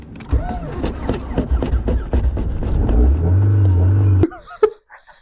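A crashed Volvo's engine cranks in rapid uneven bursts, then catches into a loud running drone for about a second before cutting off abruptly, heard up close.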